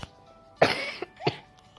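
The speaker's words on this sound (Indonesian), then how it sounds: "aku lagi batuk, banyakan minum es kali ya, batuk aku" A person coughs twice, a loud harsh cough followed by a shorter second one, close and alone, during a casual online game session.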